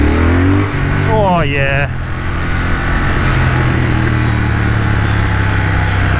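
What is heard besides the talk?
2021 Triumph Thruxton RS motorcycle accelerating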